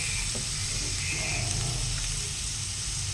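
Onion sautéing in a hot pan gives a steady, close sizzle and crackle that holds evenly throughout, with light stirring and no talk.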